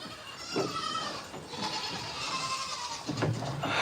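Several goats bleating on a farm, a few loud nasal calls spaced apart over a background of rustling, with one bleat early and two more toward the end.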